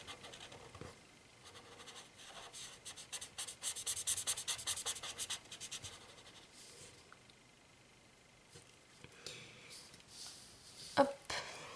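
A felt-tip marker scratches and rubs across paper while coloring a drawing of shoes, soft and close, in bursts of quick strokes with pauses between.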